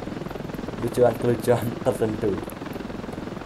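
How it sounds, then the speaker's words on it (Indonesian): A helicopter in the video game Ravenfield, its rotor chopping steadily and evenly throughout, with someone talking over it. "Oke, helikopter datang."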